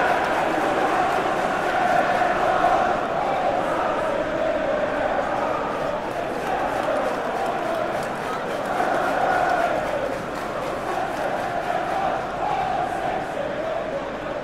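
A stadium crowd roars steadily in a realistic football video game match between Manchester City and AC Milan, with a broad sustained din and chanting swells throughout, while commentators talk over it.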